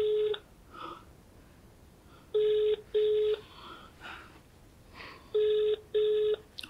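A telephone rings in a Nollywood film scene, sounding as repeated short electronic ring bursts in pairs with brief pauses between them, fairly loud against a quiet background.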